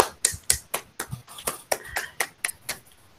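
A small group of students in a classroom claps, producing sparse, irregular claps at close range that fade out toward the end.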